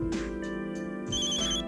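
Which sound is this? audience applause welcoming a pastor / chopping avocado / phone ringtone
phone ringtone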